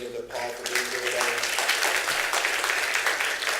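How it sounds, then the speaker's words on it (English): Sustained applause from an audience at the close of a panel discussion on autonomous vehicle technology, dense clapping filling the whole stretch with a brief moment of speech at the very start. "So please join me in giving a round of applause to Jean and to Paul for being here today."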